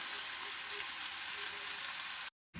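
Chopped onions, green chilies and curry leaves fry in hot oil for a chicken dish, a dense, even sizzle close up that cuts off abruptly near the end.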